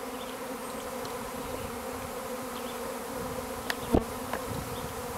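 A honeybee swarm buzzes steadily near a hive in a tree fort, a dense, continuous hum filling the air, with a single bee passing close to the microphone for a brief, louder buzz near the end.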